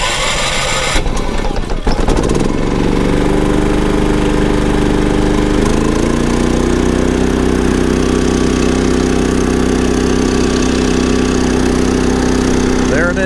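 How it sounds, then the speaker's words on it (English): A Champion 3400 dual fuel inverter generator cranks with a short rough burst, catches, and then settles into a loud, steady, close running drone. "So let's give the generator a crank."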